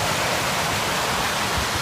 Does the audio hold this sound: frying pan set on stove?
no